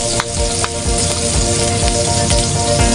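Ginger sizzles steadily and loudly in a frying pan at an outdoor catch-and-cook meal, with occasional soft knocks from stirring and no voices.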